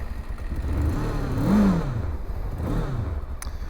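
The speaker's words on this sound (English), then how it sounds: "So that 400cc engine is pretty quiet, actually." A Mutt Stravaig 400 motorcycle with a 401cc inline-twin engine runs nearby, its fairly quiet note swelling into a brief rev and then falling back to a steady idle.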